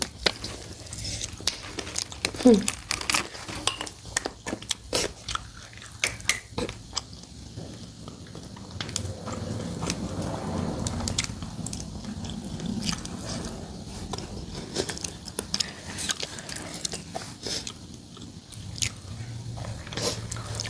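Close, crisp bites and crunches of spicy fried chicken, repeated irregularly over moist chewing throughout, with occasional brief murmurs from the eater.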